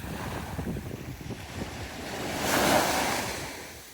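Sea waves wash onto Bournemouth beach on a slightly stormy day, a steady surf roar with wind buffeting the microphone and a fuller breaking wave swelling near the end.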